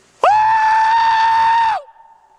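A person gives a loud, long, sustained howling call in the woods during a Bigfoot hunt, followed by a faint echo trailing off afterward.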